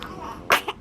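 A newborn baby gives a tiny sharp sneeze, a brief burst with a small second catch after it, close and soft amid quiet room noise.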